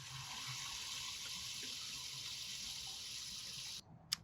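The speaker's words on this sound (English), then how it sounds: "We're going to pour that into this watering can." Mixed plant teas poured into a 10-liter watering can, a steady close rushing of liquid filling the can that stops abruptly near the end, followed by a brief clink.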